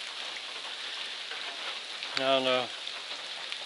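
Steady rain falls on a rainy day in New Hampshire along the Appalachian Trail, a constant close hiss with a voice speaking briefly near the end.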